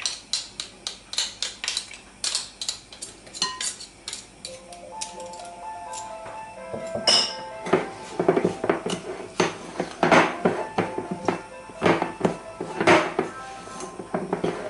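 A spoon scrapes and taps rhythmically against a bowl while mixing banana doughnut batter, quick clinking strokes that grow busier and louder partway through.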